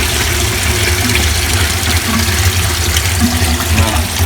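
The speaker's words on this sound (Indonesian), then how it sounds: "air itu tidak menyembur ke atas tapi menyembur ke bawah" Garden pond water sprays steadily from a filter pipe and is aimed downward, making a loud, continuous rushing splash with a low pump-like rumble underneath and no talking.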